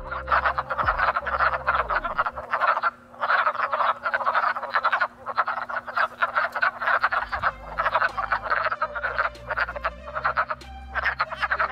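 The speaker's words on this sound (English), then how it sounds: "It cannot be overstated the importance of these male wood frogs calling." A chorus of male wood frogs calls in dense, rapid clucking croaks, many voices overlapping in steady bursts close by, with no talk over them.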